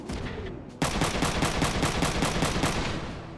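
Automatic gunfire from a mech battle in the game Front Mission 3, bursting in abruptly after a brief quiet lead-in and continuing as a dense, rapid, even rattle of shots close and loud until the end.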